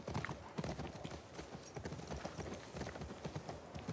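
Horse hooves clip-clop in a quick, steady rhythm, close and fairly loud against a dense background of noise, with no talking.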